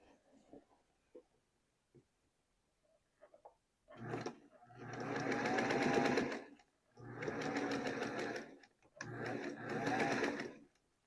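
After a few light clicks, a sewing machine with crawling feed dogs runs in three whirring bursts of stitching, each a few seconds long and close by.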